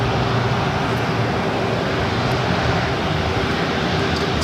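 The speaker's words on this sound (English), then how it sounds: "should be seeing the Emirates A380 Super now crossing over 25 left" An Emirates Airbus A380 crosses runway 25 left at LAX, a broad, steady jet roar heard at a distance, unbroken and uniform for several seconds.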